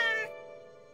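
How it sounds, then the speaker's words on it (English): A cartoon space cat gives one short, bright meow that fades quickly into a soft, quiet musical tail. "this is my space kitty, Houston."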